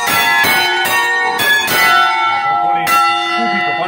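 Church bells of San Bartolomeo in Ossona ring loud and close, with several overlapping strikes about every half second over a long sustained ringing hum.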